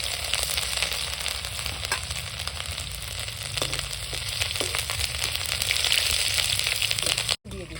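Whole cumin, a bay leaf and ginger sizzle loudly in hot oil for a taro dish, a constant close hiss dotted with small crackles that cuts out abruptly for an instant near the end.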